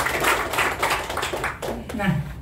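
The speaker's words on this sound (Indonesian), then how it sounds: "Tepuk tangan dong untuk mereka." A seminar audience claps at a marketing presentation, a few seconds of loud, fairly dense applause in a hall, with speech coming in toward the end.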